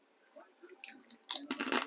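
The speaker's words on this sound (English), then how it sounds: "Excuse eating on camera." A mouthful of crunchy potato-chip-like topping from a chicken, leek and Dijon casserole being bitten and chewed close to the microphone, faint rustling building into loud crisp crunches toward the end.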